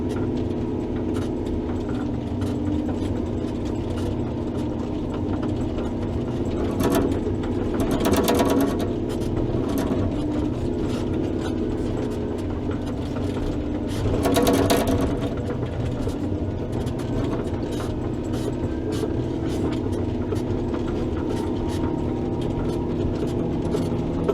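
A tractor plowing and pushing heavy snow on a mountain after 6-8 inches of overnight snowfall: a steady mid-pitched engine drone with grinding, clanking mechanical strain and two brief louder surges, no talking.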